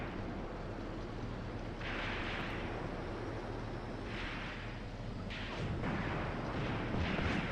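Tank cannon fire in a WW2 battle simulation game set at Leningrad during a Wehrmacht armored offensive, several heavy booming blasts rolling over a constant dense roar of distant battle.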